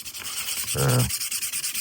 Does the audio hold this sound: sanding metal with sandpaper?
yes